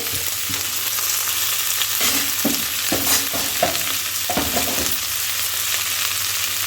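Three thickly cut onions sizzle steadily in hot oil in a pan, stirred now and then with short scraping strokes over a constant frying hiss, close up with no talking.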